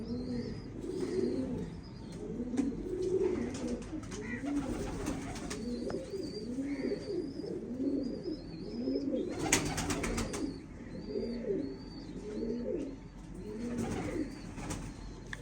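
Pigeons coo repeatedly in soft, rolling low calls, several birds overlapping in a steady rhythm, with faint higher chirps above.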